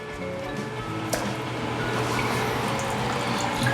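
Water runs and drains steadily from a toilet tank during a bathroom renovation, a continuous close rushing flow with a faint trickle and no speech over it.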